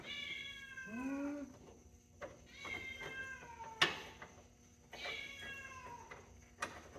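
A cat meows several times in drawn-out, rising and falling cries, close by in a workshop, with short pauses between and a few light knocks in the background.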